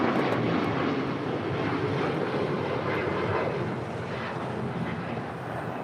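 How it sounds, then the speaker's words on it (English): A United Airlines Boeing 737 MAX 9 departs LAX bound for Kona, its jet engines giving a steady, moderately distant roar that eases slightly toward the end. "This is United Airlines 1718 departing to Kailua, Kona on a MAX 9"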